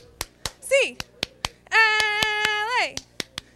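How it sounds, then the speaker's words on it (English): A UCLA cheer eight-count clap: sharp, evenly spaced hand claps ring out in a steady beat at a school spirit event, while voices shout and call out loudly between and over them. "Did she just do the 8 clap?"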